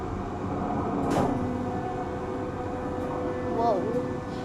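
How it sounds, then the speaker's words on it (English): Sydney Trains Mariyung D set in motion, a steady rumbling carriage interior with rattling, a couple of sharp knocks and brief squeals over continuous low running noise. "Whoa, the train is shaking"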